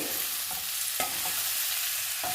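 Tamarind and curry leaves fry in a pan with a steady, soft sizzle, punctuated by a few short scraping stirs, close and alone.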